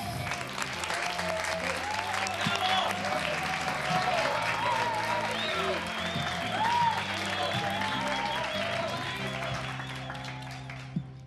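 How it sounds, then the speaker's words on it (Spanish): An audience applauds performers at a club music night, a steady wash of clapping with cheering voices mixed in that runs for the whole stretch before tapering slightly at the end. "vamos a apoyarlo y a darles un gran aplauso a las estrellas de esta noche, a Diego y a Aquela."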